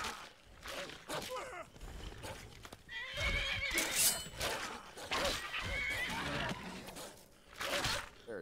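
A horse in Skyrim whinnies loudly while its hooves clip-clop along, the neighing rising clearly in the middle amid the hoofbeats, with a voice talking faintly in between.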